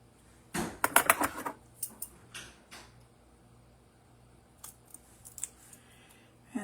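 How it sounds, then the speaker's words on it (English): Scissors snipping small quilt fabric pieces close by, a quick cluster of crisp cuts followed by a few scattered snips and rustles at a low level. "I'm going to grab the pieces and cut them with the scissors again."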